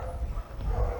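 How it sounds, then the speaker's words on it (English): Dogs bark in a hillside neighborhood above coastal cliffs, a brief muffled woof or two at middle distance over low background rumble. "all these dogs are like setting up a chain of events going on here"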